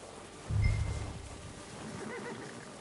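A horse in the video game Red Dead Redemption 2 lets out one short, close, fairly loud neigh, followed by quieter outdoor game ambience.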